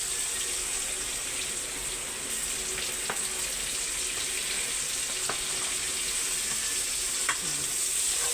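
Tomatoes sizzle steadily as they fry in a hot pan, a constant hissing crackle with a few sharp clicks from utensils, close and alone without voices.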